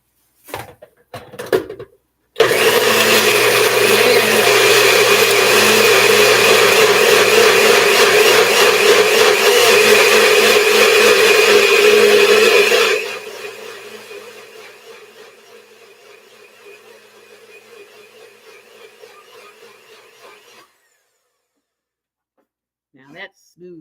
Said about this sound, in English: And that is why you get a small blender in addition to your Vitamix.